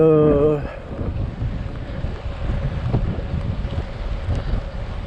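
Wind buffets the microphone outdoors in a steady low roar, with a brief voice at the start and faint clatter under the rumble.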